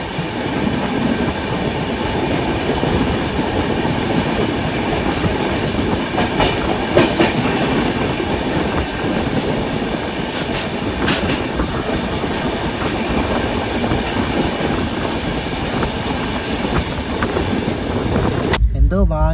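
Ashram Express, an Indian broad-gauge train running from Sabarmati toward Old Delhi, rumbles steadily on the rails with continuous wheel and carriage noise heard from inside, a few brief metallic clicks standing out, and a sudden cutoff at the end.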